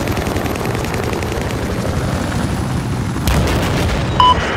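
Dense, continuous helicopter rotor rumble in Battlefield 4 multiplayer with scattered gunfire bursts underneath, getting louder near the end, with a few brief electronic blips.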